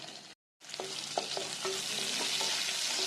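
Green chilies hit hot oil already holding mustard seeds, cumin and onions for a cabbage curry, sizzling steadily with a brief dropout near the start, then a spoon stirring in light repeated scrapes.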